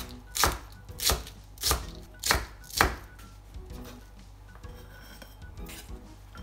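Knife chopping vegetables on a cutting board while preparing miso ramen at home: five distinct, evenly spaced chops, close and crisp, followed by quieter scraping and handling sounds.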